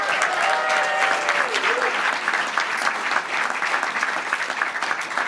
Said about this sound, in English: how about a big round of applause for Waymo?